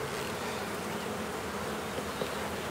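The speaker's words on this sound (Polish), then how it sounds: "Więcej nie potrzebujemy w ulu grzebać i niepokoić pszczół." Dense, steady buzzing of many honeybees in an open hive during an inspection, close and continuous with no voices.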